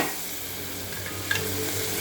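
Tomatoes frying in a hot pan for a fish curry give a steady sizzling hiss with a single stirring clack partway through; no voices.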